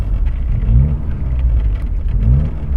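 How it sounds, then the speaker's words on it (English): Car engine revving hard with the gas floored while the vehicle fails to move and jerks, a loud, steady low rumble with rising and falling surges. "Car's not doing anything. I'm all the way down the gas."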